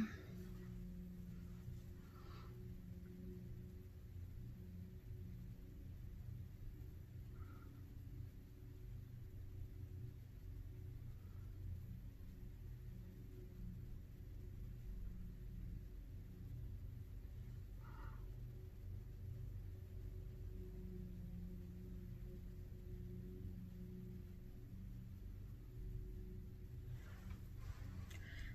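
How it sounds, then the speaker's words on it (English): A lawn mower runs somewhere outside behind thin walls, a steady low engine drone that stays distant and continuous throughout, with no talk over it. "I'm sorry if you can hear the guy in the background mowing."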